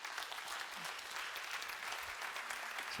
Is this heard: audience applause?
yes